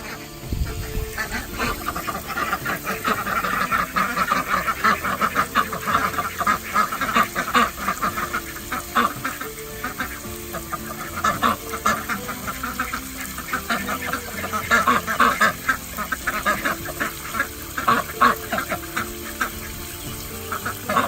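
Ducks quack repeatedly in rasping bursts at varying distances while the pool fills, the calls irregular and overlapping over a steady background hiss of running water.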